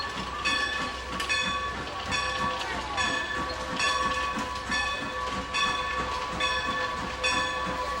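A steam train on the Strasburg Railroad rolls past, its carriages clattering in a steady clickety-clack rhythm beneath a sustained steam whistle and squealing wheels, loud and close throughout.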